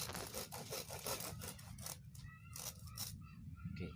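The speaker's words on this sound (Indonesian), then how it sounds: "kalau kita gunakan gunting, kasihan guntingnya, maka kita pakai gergaji." A hand saw cuts through a thick bonsai trunk with quiet, rhythmic rasping strokes, each push and pull producing a short scratchy burst, close and faint with no voices.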